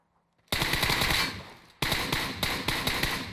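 Loud bursts of automatic machine gun fire in the shooter game PUBG Mobile: a silent pause, then a long rapid burst, a brief gap and a second sustained burst, close and harsh.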